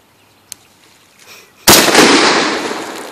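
A single loud, close gunshot fired at a river shooting spot, a sharp blast followed by a long, decaying boom, preceded by a faint click and a light rustle.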